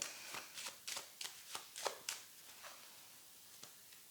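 Tarot cards handled and laid out: a string of crisp flicks and snaps as the cards are shuffled and dealt, close and quiet, thinning out toward the end, with no talking.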